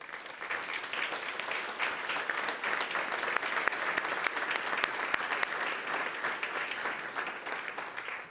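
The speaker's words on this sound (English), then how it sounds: "so we can give them a round of applause" Steady applause from an audience at a school district governing board meeting, honoring high school principals; dense, even clapping fills the room throughout, with no voices rising above it.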